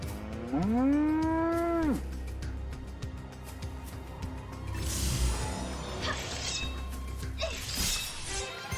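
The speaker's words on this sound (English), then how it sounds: "It's a cow, sheep, something." A cow-like creature in Final Fantasy XIII-2 lets out a single loud, drawn-out moo lasting about a second and a half, followed by game ambience and bright shattering effects.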